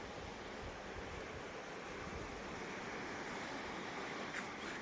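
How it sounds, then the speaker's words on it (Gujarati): Water from a village forest waterfall rushes down in a steady, even roar, a constant broad wash of sound with no breaks. "જોરદાર અહીંયા ઝરણા પડે હે."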